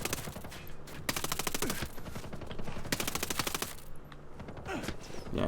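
Automatic weapon fire from Ghost Recon Breakpoint comes in several sharp, rapid bursts separated by short pauses. The shots are loud and close against a busy game background.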